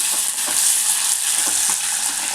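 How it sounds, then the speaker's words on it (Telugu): Green chillies frying in a pan for a Telangana-style fenugreek and moong dal dish: a loud, continuous hissing sizzle with small crackles and light stirring throughout. "పచ్చిమిర్చి ఇది కొంచెం మంచిగా ఫ్రై కావాలి"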